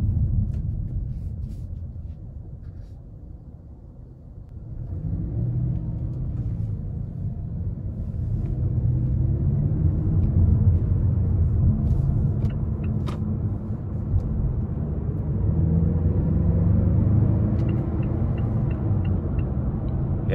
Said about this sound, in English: I'm gonna give some throttle coming out of this corner.